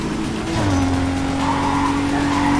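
A car in NFS Carbon brakes hard, its tires skidding and squealing in a long sustained screech over a steady engine roar.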